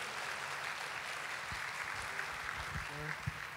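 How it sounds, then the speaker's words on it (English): A church congregation at a Sunday worship service applauds families after a child dedication, a soft, distant wash of clapping with a few low thumps and faint voices mixed in. "Let's put our hands together for the families."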